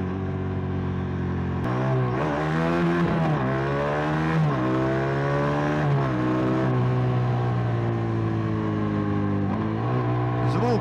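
Aprilia Tuono 457 motorcycle engine, a 2025 model, revving repeatedly with rising and falling pitch sweeps over a steady idle, loud and close, with no talk over it.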